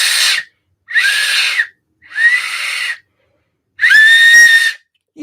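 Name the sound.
improvised emergency whistle from water bottle piece blown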